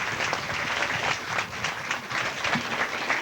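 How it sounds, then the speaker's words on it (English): Audience applause at a 2005 senior center dedication, a steady, moderate patter of many hands clapping at medium distance, sustained throughout without speech. "he really deserves a round of applause and a lot of credit for this"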